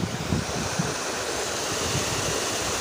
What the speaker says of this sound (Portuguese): Aqui é a cachoeira.